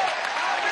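Applause from a political rally crowd at a national gathering of the Somos Venezuela movement, a dense steady wash of clapping held at an even level through a brief moment.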